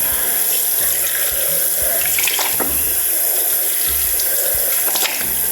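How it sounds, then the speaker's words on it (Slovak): Tap water runs steadily into a sink during face washing, a continuous close splashing rush with small shifts in the flow and no talk. "Každopádne klasicky si umývam tváričku."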